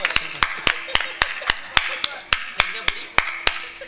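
Hand claps ring out in a steady rhythm, about a dozen sharp, evenly spaced strikes, during a Tamil village folk drama performance, with faint background noise between beats.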